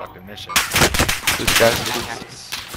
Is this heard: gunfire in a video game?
yes